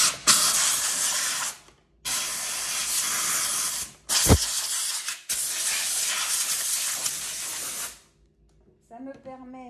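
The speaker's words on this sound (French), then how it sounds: "Et j'envoie la vapeur dedans." A handheld steam cleaner blows steam into a dusty vacuum cleaner brush accessory in loud, close hissing bursts separated by short pauses, with a brief voice at the very end.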